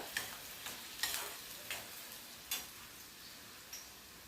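Onion fries in hot oil with a faint, low sizzle. Soft spatula scrapes and taps come through at irregular intervals.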